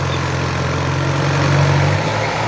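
A tractor pushing soil to prepare ground for monastery construction rumbles with a steady heavy engine drone, fairly close and continuous, slightly swelling midway, with no talk over it.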